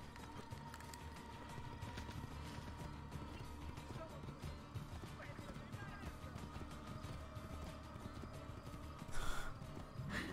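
Horse hooves clip-clopping in Assassin's Creed II, a steady rhythmic trot under continuous game ambience, with a brief louder burst near the end and someone talking over it.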